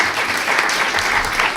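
An audience applauds during a talk, a short burst of dense clapping.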